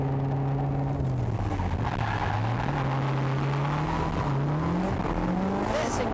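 A drift car at Motorland Suzuka circuit holds a steady engine drone through a corner approaching a hairpin in second gear, its pitch sagging and rising with throttle changes over continuous tire noise, loud and close throughout.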